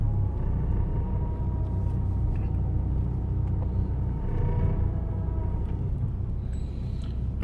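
A Rover 800 car drives along with a steady, low engine rumble and road noise that holds constant and fairly loud throughout.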